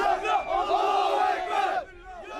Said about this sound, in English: The crowd shouts for the death penalty